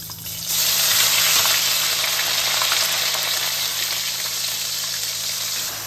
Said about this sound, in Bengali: পটল ভাজার তেলে আমি কাঁচা লঙ্কা আর আদা বাটাটা দিয়ে দিচ্ছি